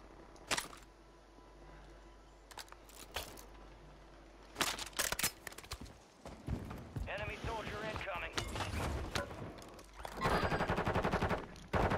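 Video game gunfire: sharp shots and rapid bursts, some close and loud, others in quick clusters, mixed with in-game clatter and voices talking over the action.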